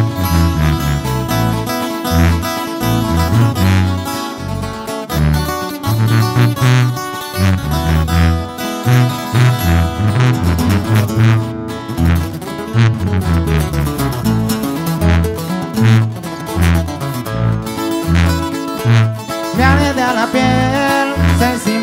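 Live Mexican regional band performing a previously unreleased song at a 2019 concert, with steady bass and brass-heavy rhythm driving continuously and loudly throughout, dense full-band sound with no talk over it.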